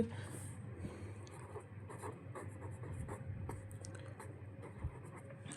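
Pen writing out an accounting solution by hand on paper, close soft scratching strokes in short uneven bursts, with a faint voice in the background.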